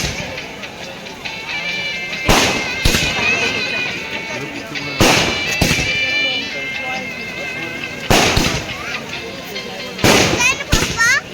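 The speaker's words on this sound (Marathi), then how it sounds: "लग्न लागल्यानंतर ल फटाके आणि फटाक्याचा आवाज" Firecrackers and fireworks burst at a wedding, with about five sharp, loud cracks spaced a few seconds apart over lively background music and voices.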